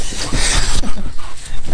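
A boxer dog, close by, gives rough, breathy barks mixed with whimpers and panting during a burst of wild play, with some background noise.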